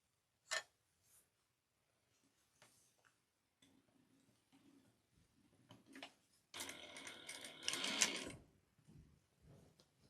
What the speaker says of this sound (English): We're going to sew this down at 1/4 of an inch.